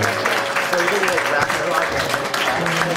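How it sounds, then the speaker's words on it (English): A wedding crowd applauds in a sustained round of clapping, steady and fairly loud, while a voice talks over the applause. "so let's keep the round of applause for Angela and Steve Peterson."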